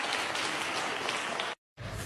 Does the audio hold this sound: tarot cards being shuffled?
no